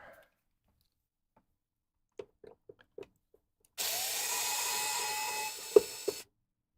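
A few faint clicks and handling taps on a computer case give way to a powered screwdriver whirring for about two and a half seconds as it backs out motherboard screws, with a small knock near the end before it stops.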